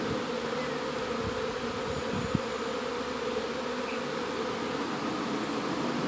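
Steady, close buzzing hum of honeybees flying around their hives in a backyard, a continuous dense drone with no pauses and a single brief click partway through.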